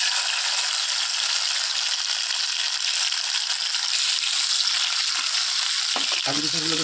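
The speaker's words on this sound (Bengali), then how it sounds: "কাজু কিশমিশগুলো একটু হালকা ভেজে নিচ্ছি" Cashews and raisins fry in oil with a loud, even, close-up hiss that runs continuously, ending with a short clatter of stirring.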